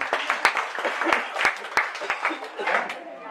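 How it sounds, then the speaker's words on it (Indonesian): A church youth congregation applauds at a service, a burst of many hands clapping close by with sharp individual claps throughout, mixed with voices. "Tepuk tangan dulu buat Tuhan kita dong"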